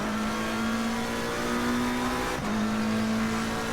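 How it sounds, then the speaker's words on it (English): A McLaren 720S Evo race car engine at Spa holds a steady, loud, raspy drone, with a brief dip in pitch as it shifts before climbing again. "So first outing in the McLaren, that raspy engine."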